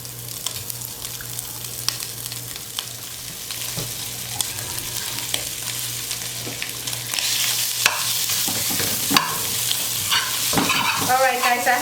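Dominican longaniza pork sausage browning in a dry pan over medium-high heat, with a steady loud sizzle and crackle that swells in the second half, joined by occasional utensil clicks.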